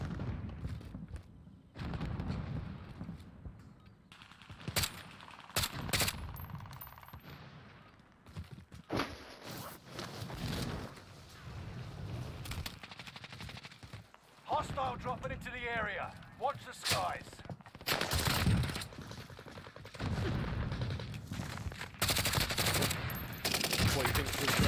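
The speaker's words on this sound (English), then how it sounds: "I had gunfire going off" Rapid bursts of video game gunfire and single shots erupt repeatedly, some near and some distant, while people talk over the action.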